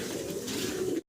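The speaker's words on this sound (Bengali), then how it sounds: "খুব সুন্দর ডাকাডাকি করতেছে দেখতে পারতেছেন" A pair of dragon pigeons at a pigeon farm cooing, one close, steady, throaty coo that lasts about a second and then cuts off.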